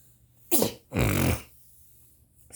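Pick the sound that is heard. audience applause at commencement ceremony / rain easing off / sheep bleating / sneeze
sneeze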